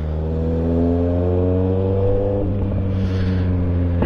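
Car accelerating through curves on a mountain road, a steady engine drone rising in pitch and then shifting as the revs change partway through, heard close and continuous.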